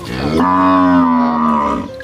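A single long, loud moo from a cow on a small cattle farm, close and clear, rising then holding for over a second before fading.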